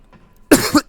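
Someone still getting over an illness coughs twice in quick succession, loud and close, after a quiet moment, with a third cough starting right at the end.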